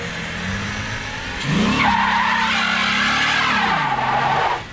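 A car skids into a tire squeal after a neutral drop with the e-brake on, engine revving loud and steady underneath for several seconds, close by.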